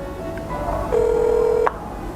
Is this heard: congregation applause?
no